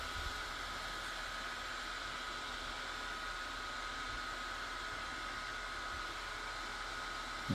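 A small portable neck fan whirs with a steady, airy hum, constant and fairly quiet throughout, with no speech.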